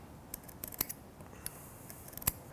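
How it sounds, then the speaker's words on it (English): A knife scratches a marking line along a square on wood while fitting hinges, producing faint, dry, intermittent scraping ticks, several short strokes close by in a quiet room. "I'm going to put the square up to one of those and I'm going to scratch that line back."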